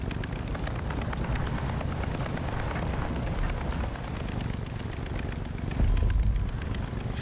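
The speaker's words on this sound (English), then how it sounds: "You wanna die with me in a plane, Jen?" Steady, loud engine drone of a plane in the Far Cry 5 video game, a continuous broadband roar that holds throughout with a brief swell near the end, no talking over it.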